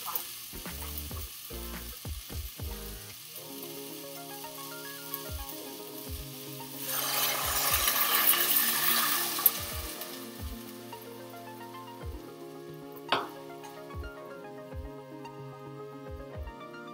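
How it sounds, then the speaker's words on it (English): Water poured into a hot pot of sautéing bitter melon with tomatoes for a Filipino dish, a loud rushing sizzle swelling briefly over steady frying crackle and occasional stirring knocks, close by with no talk. "we take 2 cups of water and we add that to the pot."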